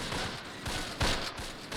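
Gunfire in the World War II tactics game Close Combat Last Stand Arnhem, at the Nijmegen and Arnhem bridges: a steady crackle of scattered shots with a sharper burst near the middle, continuous and moderately distant.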